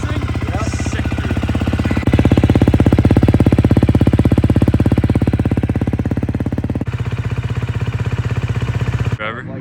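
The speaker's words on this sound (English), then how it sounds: "Out here with Owen Levasseur on the Freshie MC250F Factory Edition. He's gonna do a quick demo for us." A 2023.5 GasGas MC250F Factory Edition four-stroke dirt bike engine running close by, a loud, steady, rapid-firing drone that rises in revs and holds before dropping and cutting off near the end.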